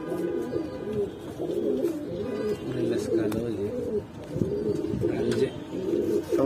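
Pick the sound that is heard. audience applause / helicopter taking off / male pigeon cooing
male pigeon cooing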